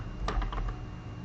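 A short, quick run of a few keystrokes on a computer keyboard, soft and close over faint background hum.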